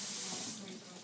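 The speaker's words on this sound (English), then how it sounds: "I'm going to wash my hands." Water runs from a kitchen tap as hands are washed, a faint, steady splashing hiss lasting about a second.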